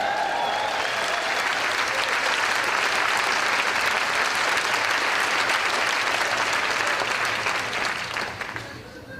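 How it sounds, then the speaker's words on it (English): A seminar audience breaks into loud, sustained applause, a thick wash of many hands clapping together that holds steady for several seconds before tapering off at the end. "Give it a round of applause."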